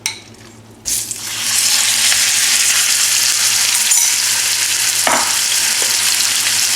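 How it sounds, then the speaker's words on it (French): Beef marinated for an hour hits a hot pan for Sichuan-style stir-fry, bursting into a loud, steady close sizzle after a quiet start, with a brief clink partway through. "on démarre avec notre bœuf qui a mariné pendant 1 heure"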